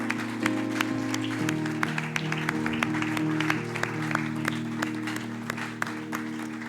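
A church congregation applauds during a wedding blessing, steady dense clapping over sustained organ or keyboard chords, continuing throughout.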